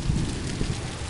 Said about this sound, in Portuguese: Deu uma chuva forte aqui.